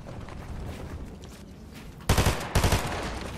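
Gunfire in the Fortnite video game sounds as a burst of several rapid shots, followed by another quick cluster moments later, moderately loud over a low game background hum.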